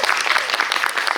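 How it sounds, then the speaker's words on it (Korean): A dense burst of audience applause at a special film screening with a guest Q&A, loud and continuous throughout. "박수 한번 다시"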